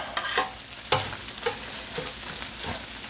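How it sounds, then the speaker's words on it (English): A metal spatula chops cheese into sizzling cheesesteak meat on a flat griddle. Sharp scraping taps come at irregular intervals over a steady frying hiss, close and moderately loud, with no talking. "Just chop that cheese in."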